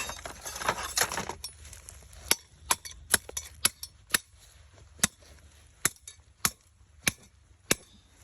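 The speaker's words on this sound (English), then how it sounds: "I'm going to take this hammer right here." Rustling at first, then a series of sharp metallic hammer blows at an uneven pace, close and distinct, pounding a trap stake into the ground.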